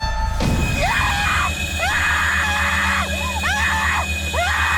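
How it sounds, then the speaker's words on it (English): A child's shrill scream in a horror film scene, set among sustained synth drones and a low rumbling bed, with several rising and falling vocal swoops repeating over the nearly five seconds. "I knew the kid was going to scream"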